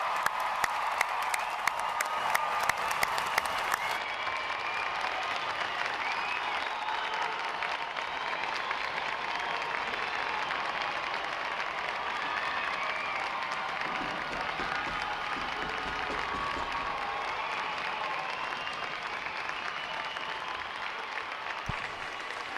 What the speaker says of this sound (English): Ladies and gentlemen, please hold your applause.